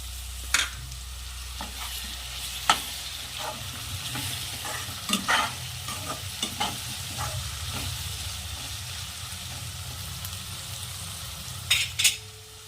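Tomatoes go into softened green peas frying in a pan for matar pulao, with a steady close sizzle and occasional sharp stirring clinks of a spoon against the pan.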